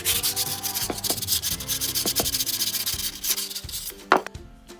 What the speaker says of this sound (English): Then we'll just clean it up a little bit with some sanding.